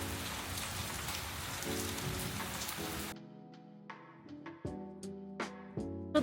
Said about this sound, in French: il y a beaucoup de vent et il pleut